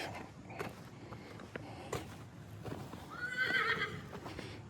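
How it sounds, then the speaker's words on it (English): Horses whinny and neigh as they are let out to pasture, with hoof clip-clops and faint creaks nearby; a longer, louder neigh rises near the end. "let's go ahead and let the horses out"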